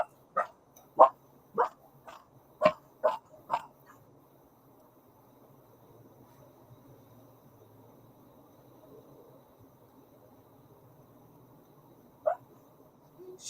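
Several dogs bark sharply at a visitor at a house, a rapid burst of about eight loud barks close by, then quiet with faint insect chirping and one last bark near the end.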